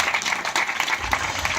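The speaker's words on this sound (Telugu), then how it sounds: "చప్పట్లు కొట్టి దేవుని మహిమపరచండి" A church congregation claps in praise, giving a brief burst of uneven, fairly loud hand claps in an indoor hall, with a faint voice underneath.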